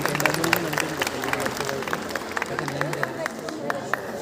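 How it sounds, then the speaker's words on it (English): An audience at a school annual day celebration claps steadily, a dense patter of many hands with a murmur of voices underneath, sustained throughout. "Audience, please clap."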